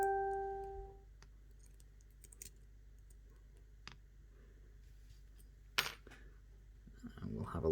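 Small metallic clicks from the pins of a Brady Slider LOTO padlock as it is picked, a few sparse sharp ticks spread across a quiet background, with a louder cluster of clicks near the end.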